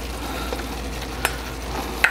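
Chopped leftover crispy pata meat sizzles and fries in a simmering sauce in a pan, a soft steady crackle with a few sharper clicks of stirring, no voice.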